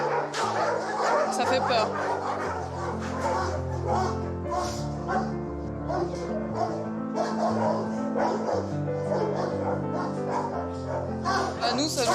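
A stressed young husky in a shelter kennel box barks in sharp bursts and whimpers between them, continuing throughout with people speaking French over it.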